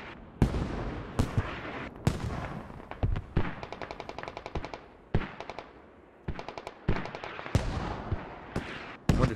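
Mortar fire and rapid gunfire crackle in the military shooter Squad: sharp heavy blasts mixed with fast machine-gun bursts, loud and close, with short pauses between volleys.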